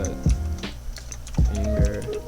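Fingers tap on a computer keyboard in a short, uneven burst of close key clicks, with a few heavier thumps among lighter taps and no voices.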